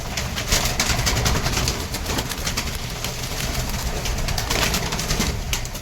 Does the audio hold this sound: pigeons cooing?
yes